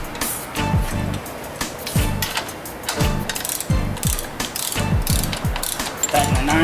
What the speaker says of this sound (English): put the wrench on it. Tighten the drive side, not all the way tight, but pretty tight